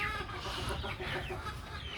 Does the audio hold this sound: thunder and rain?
no